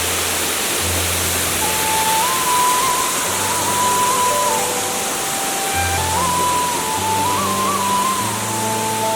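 Vangan waterfall near Vansda pours in a steady, loud broadband rush of falling water, with no voices and faint tonal background hums.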